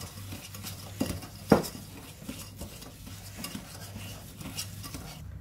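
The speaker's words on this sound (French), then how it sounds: "Continue à mélanger bien, comme ça, fort, fort, fort." Eggless chocolate cake batter being stirred hard in a bowl, a steady scraping swirl with a few sharp utensil knocks against the side, close and continuous.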